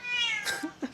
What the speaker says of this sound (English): that's the cat speaking.